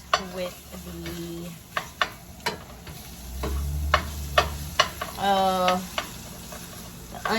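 Tomato paste being stirred with onions and garlic in a pan, a low sizzle under repeated clicks and scrapes of the utensil against the pan, with faint traces of other noise and no clear talking.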